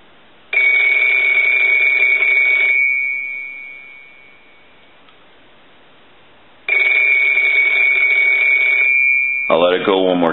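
The loud electric bell of a rotary telephone under repair rings in two long bursts separated by a pause, ending as a voice starts speaking.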